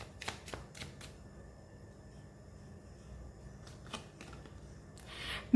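A tarot card being drawn from the deck, heard as a few soft, close papery snaps and shuffles with quiet gaps between them, and no talk.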